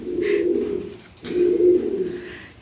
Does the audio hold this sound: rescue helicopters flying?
no